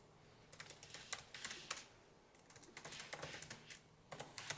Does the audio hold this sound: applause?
no